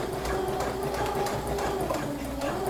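A sewing machine runs a long basting stitch, a steady, fast mechanical whirr with an even rhythmic tick that stays close and continuous throughout.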